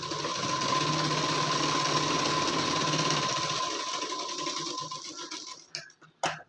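A sewing machine runs steadily for several seconds while stitching the shoulder seams of a designer collar blouse together, then slows and stops with a few short clunks near the end.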